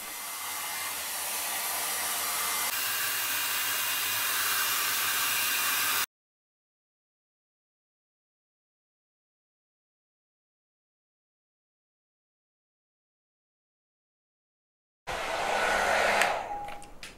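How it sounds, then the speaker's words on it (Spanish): A hot air brush with ionic technology styles curly hair, blowing with a loud, steady airy whoosh for about six seconds, then going silent before starting again near the end. "Es un cepillo caliente con tecnología iónica, el cual ayuda con el brillo y a mejorar el frizz."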